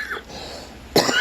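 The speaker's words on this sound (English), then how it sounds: "cough." A single short cough near the end of a quiet moment, close and fairly loud, preceded by faint breathy sound.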